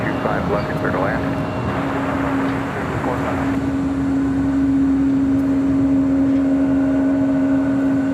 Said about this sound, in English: We got that American 777 up next for arrival.